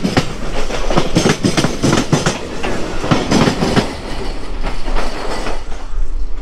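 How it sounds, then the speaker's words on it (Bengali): A local train clatters over railway points while changing lines, steady rumbling under rapid, repeated clicking wheel impacts, loud and close from inside the carriage, with no voices. "এই লাইন চেঞ্জের সময় যে খটখট খটখট খটখট খটখট যে শব্দ হয়, সেই শব্দ শুনতে দারুণ লাগে।"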